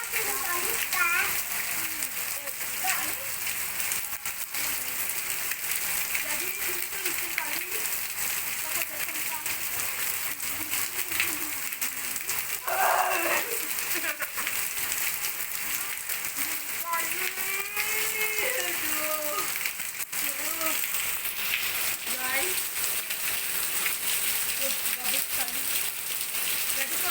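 Rain pours steadily while kids play in it at home, a continuous broadband hiss and splatter of water running throughout, with children's voices and talk over the top.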